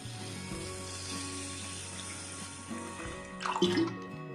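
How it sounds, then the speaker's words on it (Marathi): Soaked rice for anarse being rubbed and rinsed in a pot of water, giving soft sloshing and a brief louder splash near the end, close and fairly quiet. "तांदूळ असा चोळून धुवून घेऊ आपण"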